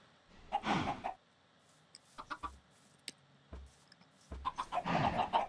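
Chickens in the game Minecraft clucking in short bursts, a few clucks at the start and a denser run near the end, separated by sparse game clicks and thuds.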